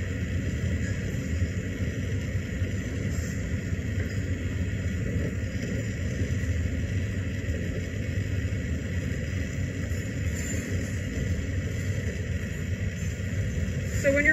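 A torch heating glass for glassblowing, a steady close roaring rush of flame that holds unbroken throughout.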